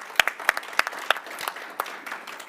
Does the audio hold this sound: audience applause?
yes